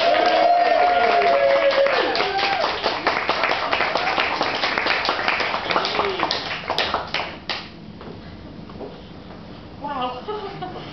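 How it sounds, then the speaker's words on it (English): Loud, dense applause from an audience at a poetry reading night, sustained clapping with cheering that slowly thins and fades over about eleven seconds, with a voice speaking briefly near the end. "Please give a massive, massive round of applause for the amazing Cathy Bryant!"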